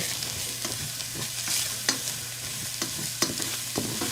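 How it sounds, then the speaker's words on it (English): Onions and peppers sizzle in a skillet, a continuous bright hiss broken by several sharp scrapes and taps of a stirring utensil, close and alone. "So we're just going to let our onions and our peppers sweat just a little bit"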